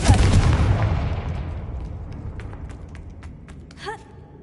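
A Confringo spell explodes in the Hogwarts Legacy video game with a loud boom that rolls off into a long fading rumble, followed by a brief vocal gasp near the end.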